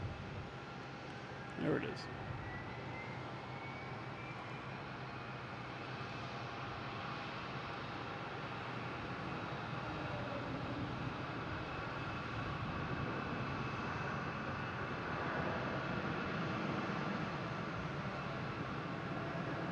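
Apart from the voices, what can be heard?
airplane landing at Boston Logan airport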